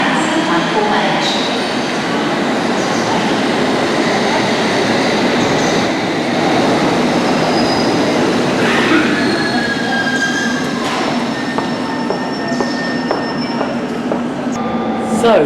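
A London Underground District line train rumbles into a station platform, steady loud roar with wheels squealing and screeching in bursts near the end, brief muffled voices in the background.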